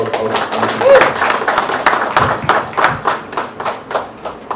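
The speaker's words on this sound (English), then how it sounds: "So one round of applause for her." Audience at a youth meet-and-greet claps for a speaker, a loud dense round of hand claps with individual sharp claps standing out and some voices underneath, tapering toward the end.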